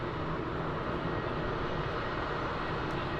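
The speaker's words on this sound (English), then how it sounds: "taxiing out there. Airbus A320, probably off to Dublin, I'd say" An Aer Lingus Airbus A320 taxiing at Munich Airport gives off a steady, dense engine roar that fills the whole clip without letting up, with no voices over it.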